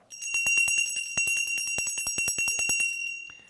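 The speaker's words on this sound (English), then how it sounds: "I am reminded of that every time I ring the bell." A hand bell rings in a church setting, a rapid run of bright metallic strikes with sustained ringing overtones that fades out after about three seconds, close and loud, with no talk.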